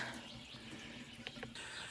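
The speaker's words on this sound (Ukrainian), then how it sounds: "Ось так біжить водичка." Spring water runs from a mineral water source at Skhidnytsia in a forest, a steady close trickle and splash with faint birdsong in the background.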